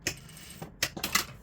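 A sewing machine topstitches a seam on a knit cropped top in short bursts. Quiet, fast clattering stitches come in a few quick runs separated by brief pauses.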